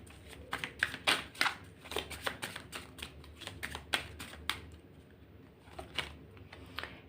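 Tarot cards are shuffled and handled up close, giving a quick, irregular run of soft flicks and taps that pauses briefly before resuming.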